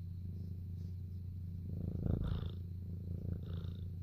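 A pet cat purring close up, a soft low continuous rumble that swells briefly in the middle, faint and alone in a quiet room.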